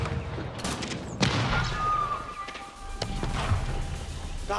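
Gunfire from a battle in the real-time strategy game Age of Empires IV, a dense crackle of overlapping shots with sharper cracks near 1.2 and 3 seconds, over a steady bed of game ambience.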